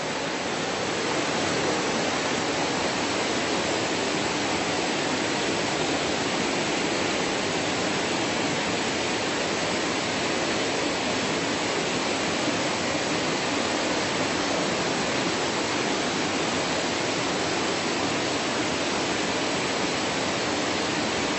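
A giant waterfall about 150 feet high at Cascadas del Obraje near Ocuilan de Arteaga gives a steady, dense roar of falling water that holds unchanged throughout, with no voices.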